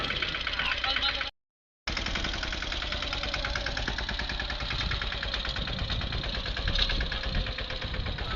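A tractor engine straining under load chugs loudly and steadily with a rough, knocking rumble that cuts out briefly near the start.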